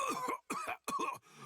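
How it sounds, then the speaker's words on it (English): Three harsh coughs come in quick succession, close and fairly loud, each a rough burst separated by brief pauses, with no talking. "how long you gonna cough?"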